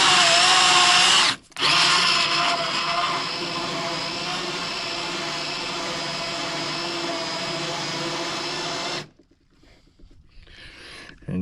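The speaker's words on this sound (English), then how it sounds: "So as you're drilling, I'm moving the drill like this" A power drill bores a hole through an interior door with a loud, steady whine for about nine seconds after a brief pause near the start, then stops abruptly, leaving quieter handling sounds.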